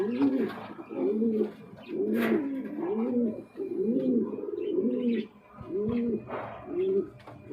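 A pair of black pigeons coos up close in a repeated series of low, throaty, rolling calls, with small pauses between phrases.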